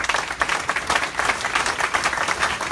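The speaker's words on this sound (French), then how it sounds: "je demande à l'assistance encore de vous applaudir chaudement" An audience applauds graduates at a graduation ceremony of a nursing school, a steady wash of many hands clapping at moderate loudness throughout, with no talking.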